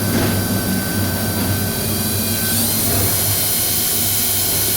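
A DMG Mori Dura Vertical 1035 CNC machining center, a 40-taper vertical mill, runs with a dense, steady hiss and whine and a constant high tone, loud and continuous with no talking.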